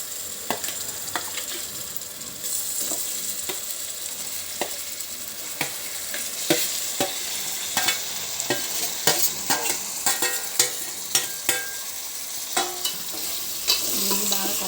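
Mutton pieces fry with onions in a hot pan, a steady sizzle broken by frequent scraping stirs of a spoon against the pan, close and moderately quiet.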